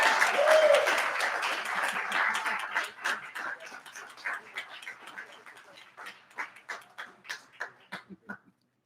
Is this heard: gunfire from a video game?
no